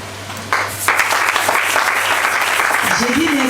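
A church congregation applauds at a thanksgiving service and temple dedication, clapping swelling in after a quiet start and holding steady, with voices calling out beneath it and a rising vocal cheer toward the end.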